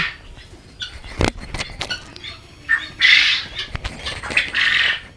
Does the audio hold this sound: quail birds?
yes